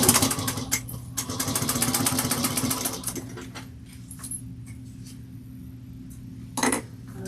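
A sewing machine binds with heavy Tex 90 thread in a fast, rhythmic stitching run for about three seconds, then stops, followed by light clinks and handling sounds and a brief burst of stitching.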